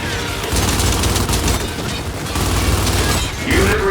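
Gears 5 video game combat with rapid weapon fire and mechanical reload clicks, dense and loud throughout, ending with a rising electronic tone.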